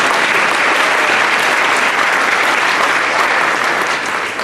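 A large commencement audience at a university graduation bursts into loud, dense, sustained applause, a continuous wash of clapping that stays steady before easing slightly at the very end.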